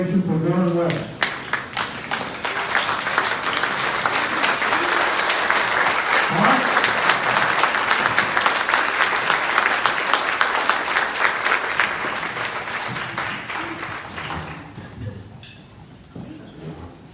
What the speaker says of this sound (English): please a standing ovation for Warren West